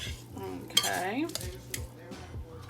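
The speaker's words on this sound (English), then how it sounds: "we're just going to go ahead and stir these up" A spoon stirs taco-seasoned cheesy fiesta potatoes in a pan, with soft scraping and a few light metallic clinks, close and fairly quiet.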